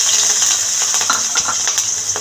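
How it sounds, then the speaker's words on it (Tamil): Chopped onions hit hot oil for a Tamil vegetable sandwich filling and sizzle steadily and loudly, a dense crackling hiss with a few light stirring clicks, no voices. "இப்போ எண்ணெய் காஞ்சிருச்சு. நம்ம பொடியாக கட் பண்ணி வச்சுருக்கிற வெங்காயத்தை சேர்த்துக்கிறோம்."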